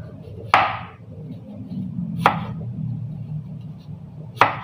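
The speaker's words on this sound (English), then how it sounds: "hiwain naman natin ang ating onions" Knife slicing onions thinly on a cutting board for a cold wood ear mushroom salad: three distinct, separate chopping knocks spaced about two seconds apart over a low background hum.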